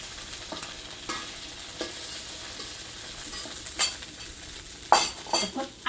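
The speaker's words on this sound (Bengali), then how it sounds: "মাছগুলি খুব সুন্দর করে ভাজা হয়েছে" Fish frying in oil in a pan gives a steady, quiet sizzle, with a few sharper clinks and scrapes from stirring near the end.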